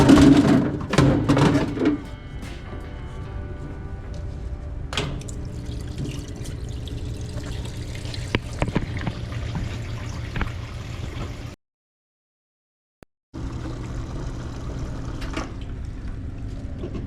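Oil draining through a Harbor Freight Central Machinery parts washer, a close, steady liquid trickle with scattered drips and clinks, louder at the start, broken by a short stretch of silence before the flow resumes.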